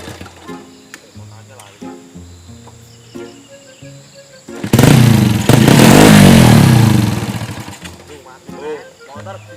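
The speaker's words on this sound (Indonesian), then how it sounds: "Motor digas langsung mati ya banter." A motorcycle engine is gunned hard midway for about two seconds, a loud roaring rev that then dies away, with people talking before and after and faint insect chirping in the background.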